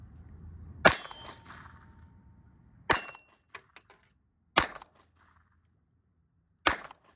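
A Colt 1908 Vest Pocket pistol fired down range at an outdoor range, four loud sharp shots spaced about two seconds apart, each with a quick ringing tail and a few small metallic clinks between.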